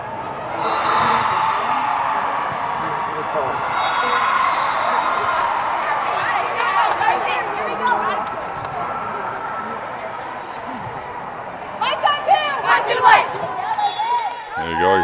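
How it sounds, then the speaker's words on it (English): A volleyball team cheering in a gym during a qualifier match, a sustained crowd roar with shouts and claps, then sharper bursts of cheering and squeaky sneaker sounds toward the end, with a voice talking over it. "There you go, you hear the Lights cheer, led by the team"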